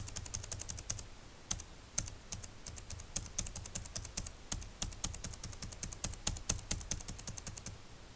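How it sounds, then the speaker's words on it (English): Commands are typed on a computer keyboard in quick, uneven bursts of close, crisp key clicks with short pauses between them. "We'll go down here and type in."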